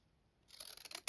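Serrated children's scissors snip through a paper stamp, a few close, crisp cuts coming in a short burst after a moment of near silence, the last snip the loudest.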